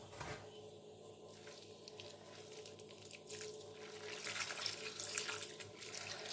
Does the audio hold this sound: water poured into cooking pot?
yes